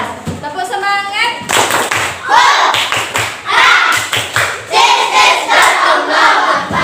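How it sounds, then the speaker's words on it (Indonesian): A group claps in a loud rhythmic pattern of quick bursts, mixed with children shouting along together. "Tepuk semangat."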